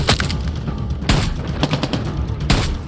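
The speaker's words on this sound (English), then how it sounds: "Time to test the shotgun out, baby!" Shotgun firing in Far Cry 6 during a firefight: several loud, sharp blasts with heavy booming tails, one near the start, another around the middle and a third near the end, over continuous gunfire and game noise.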